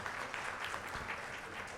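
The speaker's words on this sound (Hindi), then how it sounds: "सत्या जी हैं, मैं चाहूँगा कि वो प्लीज़ उनके लिए इस्तकबाल कीजिए, तालियों से उनका और वो तशरीफ़ लाएँ" Audience applause welcoming a guest, a member of parliament, at a poetry open mic awards event; a steady, dense wash of clapping across the whole moment.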